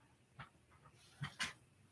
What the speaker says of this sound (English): my dog wants some attention